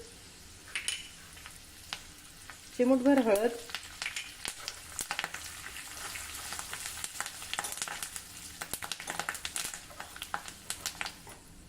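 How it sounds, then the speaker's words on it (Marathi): Curry leaves drop into a hot oil tempering after the flame is turned off, setting off a sudden burst of sputtering sizzle, then a lighter crackle with scattered pops and clicks; a voice speaks briefly. "गॅस बंद केल्यानंतर यामध्ये थोडी कडीलिंबाची पानं घालू"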